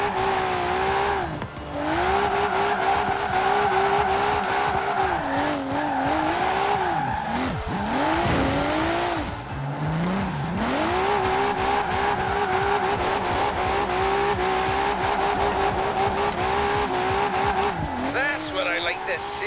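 A car engine in Forza Horizon 4 roars loudly and continuously during a tandem drifting session, its pitch swooping up and down as the throttle is worked, with tires squealing through long slides.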